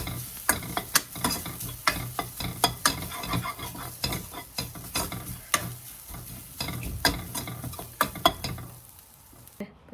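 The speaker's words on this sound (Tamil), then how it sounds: "தேங்காய் கொஞ்சம் வதக்கி எடுத்துக்கிறேன்." Coconut is sautéed in a pan for a Paavakai Kaara Kulambhu, with a steady sizzle under repeated sharp scraping and tapping of a spoon against the pan, close up, with no talking.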